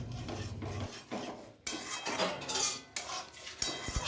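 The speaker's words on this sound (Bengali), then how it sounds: "সর্ষে পেস্ট অ্যাড করে ভালো করে মিশিয়ে নিচ্ছি নাড়াচাড়ার মাধ্যমে।" A spoon scrapes and stirs as mustard paste is mixed into a fish curry in a pan. The scraping comes in close, uneven strokes with occasional metallic clinks against the pan, and no one talks.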